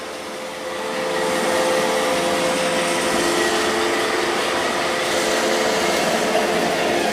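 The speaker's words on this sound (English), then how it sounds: "here's the i5 cleaning up a big mess I got here on the floor" An iRobot Roomba Combo i5 robot vacuum cleaning up a mess on the floor in spot mode, its steady whirring motor and brush hum rising in the first second and then holding a loud, constant drone close by.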